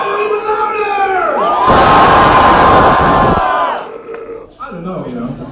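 A loud concert crowd at a metal show in Warsaw roars and cheers for a couple of seconds, framed by someone speaking to them before and after.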